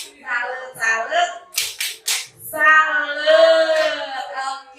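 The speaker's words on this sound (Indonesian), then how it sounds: "Kita tepuk salut." A group of women at a teachers' session does a rhythmic salute clap, a few sharp, quick clap bursts set between voices chanting and talking close to the microphone.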